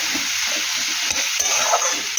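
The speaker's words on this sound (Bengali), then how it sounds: "দেবো হলুদের গুঁড়ো লঙ্কার গুঁড়ো এটা ভালো করে নাড়াচাড়া করবো ভালোভাবে কষাবো" Mourola fish with salt, turmeric and chili powder sautéing in a hot pan, a steady close sizzle broken by regular scraping stirs of a spatula, with no voices.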